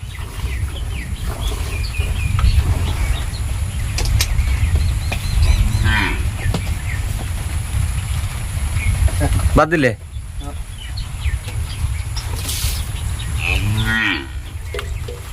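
Dairy cows mooing at a farm where buyers discuss a milking breed, several loud drawn-out moos close by with people talking over and between them.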